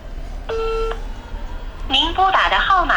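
A telephone keypad sounds a short burst of dialing tones, followed by a recorded voice speaking over the line.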